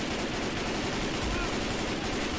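Rapid, dense gunfire from Left 4 Dead's Death Toll campaign rattles on without pause, a loud continuous crackle of automatic shots filling the whole stretch.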